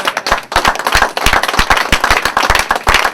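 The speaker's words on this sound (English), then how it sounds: "Clap your hands." An audience at a teen open mic and talent showcase claps hands in sharp, loud, uneven bursts, individual claps standing out clearly and close, with brief gaps between volleys.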